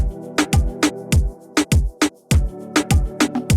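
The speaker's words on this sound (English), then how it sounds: "Kind of a choral type pad." A choral-type synth pad sustains beneath a loud, punchy electronic beat, with sharp kick-and-snare hits pulsing rhythmically over the held chords.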